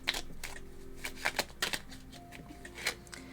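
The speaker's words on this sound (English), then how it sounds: "I'm going to see if we do at least one little shuffle like this" Tarot cards are shuffled by hand in a quick riffle of crisp, papery slaps and flutters, several bursts close to the microphone, with no talking over them.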